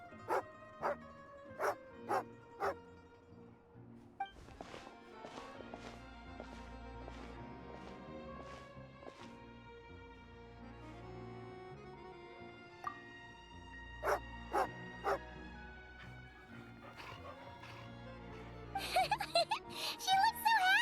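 A dog in the Genshin Impact video game, several sharp barks and yips near the start and again later over soft game music and light plucked notes, moderately close, ending in a busy burst of sound.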